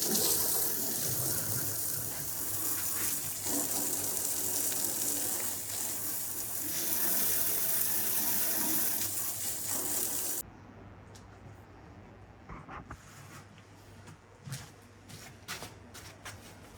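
A garden hose sprays water across a timber deck during rinsing, a loud steady hiss and splash for about ten seconds that cuts off, leaving scattered faint drips and clatters.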